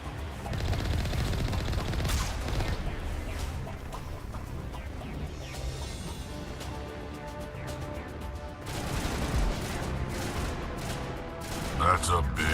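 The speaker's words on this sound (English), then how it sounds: "That's a big gun." Heavy gunfire from a big artillery gun in Mass Effect Legendary Edition, with bursts of crashing shots and booms amid combat noise, a voice talking over parts of it.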